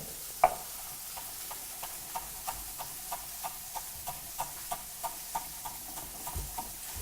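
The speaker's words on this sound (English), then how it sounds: "we're just going to stir in the parsley into our risotto" Parsley being stirred into a salmon and asparagus risotto, a spoon scraping the pan in a steady rhythm of soft clicks about twice a second, with one sharper knock near the start and a gentle sizzle underneath.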